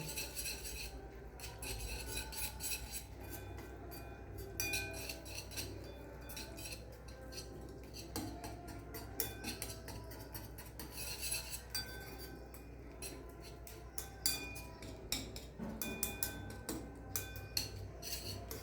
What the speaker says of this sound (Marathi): आपण डाळीचं पीठ त्याच्यात घालून घ्यायचं आणि ती मिक्स करून घ्यायचं